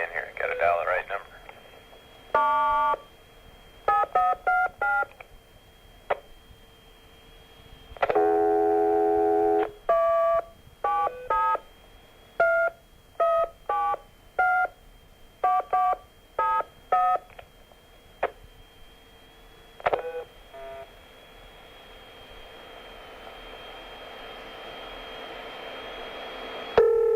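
Telephone keypad DTMF tones ring out in quick bursts of separate digits, spread across a dialing attempt relayed over a ham radio link from the Space Shuttle Columbia, with a steady tone and noise between and a rising hiss at the end.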